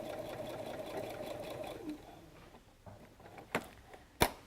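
A sewing machine back stitching a seam on a messenger bag: a steady, fairly quiet whirr for almost two seconds, then stopping, followed by a few soft handling clicks and one sharp knock.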